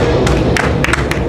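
Battle rap crowd at a Kaos vs Flo Darese event, cheering and clapping loudly throughout, with scattered sharp claps and shouts rising above a steady roar.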